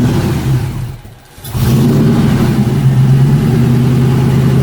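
A Factory Five Mk3 roadster's 4.6 engine idles loudly and steadily up close at its first start, briefly dipping after a second before settling into a steady burbling hum.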